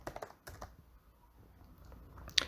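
Fingers tap quickly on a computer keyboard, a short burst of keystrokes, then a pause and a few scattered clicks, close and quiet with no talking.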